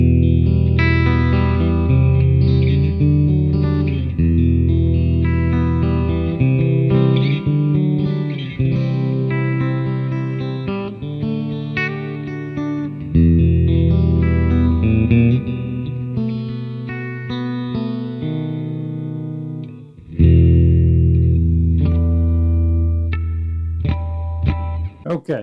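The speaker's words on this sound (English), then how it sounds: "let me give you a sample of what the clean tones will sound like" A Fender Squier electric guitar in a clean tone without overdrive plays a continuous run of chords and picked notes, steady and fairly loud, with no voices.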